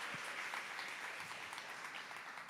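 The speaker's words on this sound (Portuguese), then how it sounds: "Aplaude, aplaude." A church congregation claps together during a sermon, a soft, even wash of applause that sounds distant and keeps steady for a couple of seconds.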